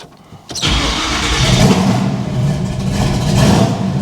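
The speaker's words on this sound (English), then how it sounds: "See if it'll idle outside, warm up, and not run out of gas." A hot rod engine with a fuel feed problem cranks and catches sharply, then settles into a loud, rough, throaty idle that stays steady and close for several seconds.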